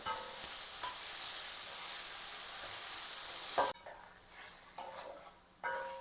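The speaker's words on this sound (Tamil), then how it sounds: "இப்போ இந்த தக்காளி வதங்கக்கே நாங்கள் இதுக்கு தேவையான உப்பை சேர்த்தோம்" Tomatoes sautéing with salt in a hot pan, a steady close sizzle with soft stirring scrapes and a few utensil clicks, ending in short bursts of frying.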